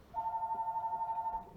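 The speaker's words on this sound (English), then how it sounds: "And of course the phone has to start ringing." A telephone rings once indoors in a garage, a steady warbling electronic trill of about a second and a half, faint and alone.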